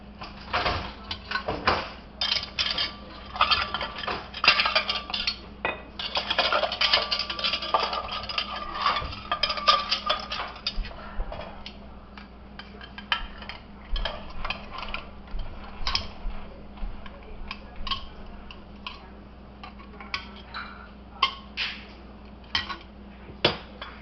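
Metal canning jar lids and screw rims clattering in a pan, a stretch of sparse, fairly quiet metallic clinks and taps, busier at first and then thinning to scattered chinks over a low steady hum.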